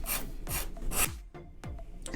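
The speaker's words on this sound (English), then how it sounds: "Finished the sanding" Sandpaper rasps back and forth over a fabric-covered wooden decor piece in several steady downward strokes, close and fairly loud, with no talking.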